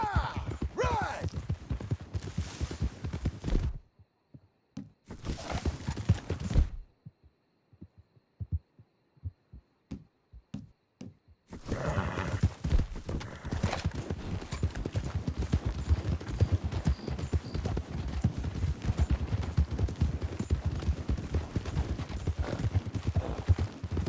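Horses' hooves clip-clop in Red Dead Redemption 2, a steady rhythm of close hoofbeats broken by two short pauses before a long, unbroken stretch of trotting.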